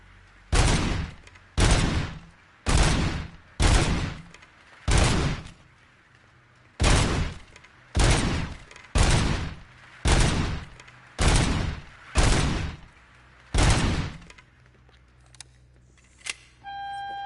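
Gunfire in the Robocop video game: twelve evenly spaced loud shots or short bursts, each about half a second long with a brief tail, ending with a few faint electronic tones.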